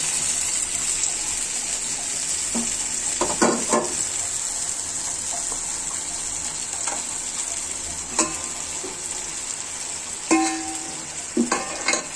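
Meat stock goes into a sizzling pan of beef and raw jackfruit, which keeps up a steady hiss while spoon strokes clatter against the pan in short bursts.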